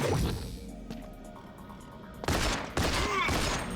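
Gunfire and explosive bursts from the video game GoldenEye: Rogue Agent, a dense heavy barrage that swells loudly in the second half over a constant rumbling game backdrop.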